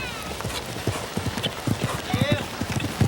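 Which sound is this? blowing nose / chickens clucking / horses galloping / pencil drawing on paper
horses galloping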